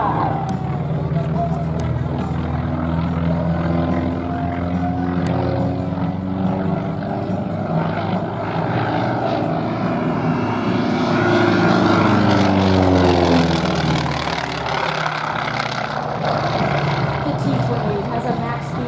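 A T-28 propeller aircraft with a radial engine flies at an airshow in Rome, Georgia, its loud droning roar continuous and shifting in pitch as it passes, with a voice talking over it.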